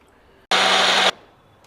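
Chilled water poured into salted curd seasoned with hing to make South Indian buttermilk: a single loud, steady splashing pour lasting about half a second, with quiet room tone before and after.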